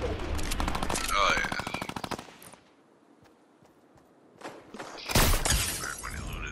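Video game gunfire: rapid automatic bursts with shattering debris, loud and close, dropping to a near-silent pause before another heavy burst, with voices reacting among the shots.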